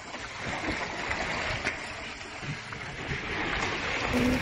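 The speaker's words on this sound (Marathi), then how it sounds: "बारका धबधबा बघू शकता तुम्ही" Water from a small waterfall rushes in a steady, moderately soft wash of broadband noise that grows slightly louder toward the end. No speech is heard.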